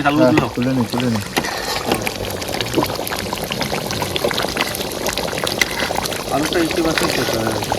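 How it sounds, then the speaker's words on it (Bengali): Ginger-garlic water is strained and poured out while cooking biryani, a steady liquid pour running under near-constant conversation. "এবার আদা রসুনের জলটা বার করে নিচ্ছি"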